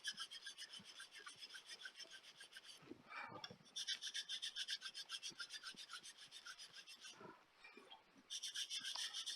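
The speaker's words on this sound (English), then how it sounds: "you have a dull piece of sandpaper" Wood is sanded by hand with a dull sheet of sandpaper, making rhythmic rasping back-and-forth strokes, close and steady, pausing briefly twice before the scrubbing resumes.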